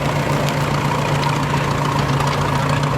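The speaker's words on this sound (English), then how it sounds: "Powered by a 3-cylinder Perkins diesel engine, and yeah, very nice engine indeed." A vintage tractor's 3-cylinder Perkins diesel engine idling at a steam fair, giving a steady low hum with a constant pulsing drone at moderate volume and no talk.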